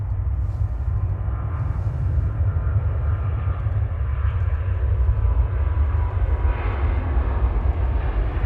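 Brussels Airlines airliner on short final into Manchester Airport, a steady broad low jet roar that holds at an even, fairly loud level throughout with no voices.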